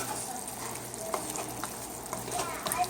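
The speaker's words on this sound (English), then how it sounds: "we'll let this cook and simmer before I add the cornstarch" Sweet and sour chicken with pineapple chunks and juice simmers in a pan, giving a steady low bubbling sizzle that stays even and moderately close, with occasional faint clicks and no talk.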